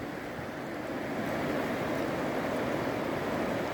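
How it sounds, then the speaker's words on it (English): The Colorado River runs steadily beside Bright Angel Bridge deep in the Grand Canyon, a broad, continuous rushing wash of water that stays loud and even throughout, with no voices over it. "All right, here I am, the Colorado River."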